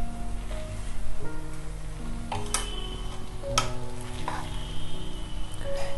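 Ghee goes into a cooking dish, and a steady sizzle and fry follows with scraping, clinking stirring strokes and a few sharp utensil knocks.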